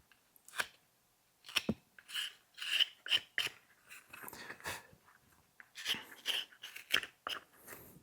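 A carving knife slicing end grain on a small wooden snowman ornament: short, dry scraping cuts in uneven bursts, close and fairly quiet, with no talking.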